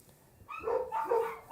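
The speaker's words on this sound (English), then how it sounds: "Sorry for the dogs." Dogs barking indoors in a few quick, fairly close barks and yips, starting after a brief quiet moment and continuing to the end.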